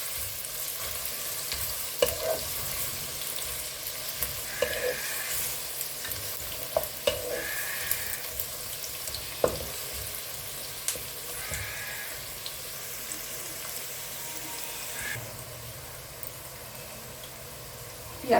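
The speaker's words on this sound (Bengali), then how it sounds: "পেঁয়াজটা একদমই ভাজা হয়ে গেছে" Onions fry and sizzle in a pan for chicken curry while a spatula stirs them, steady close frying hiss broken by repeated scraping and tapping strokes.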